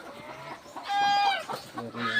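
Several chickens cluck and squawk nearby at an egg harvest, one call rising higher, with a voice talking underneath.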